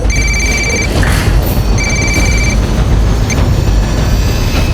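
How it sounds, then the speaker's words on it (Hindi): A telephone rings with an incoming call in a tense crime-drama scene, two clear electronic ring bursts sounding over a loud, steady background rumble, with no talking. "उसी का कॉल है सर।"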